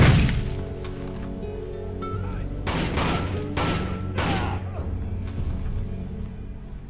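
A frag grenade blast in Rainbow Six 3 Raven Shield co-op play, a few heavy cracking bursts over a steady game background, fairly close and loud.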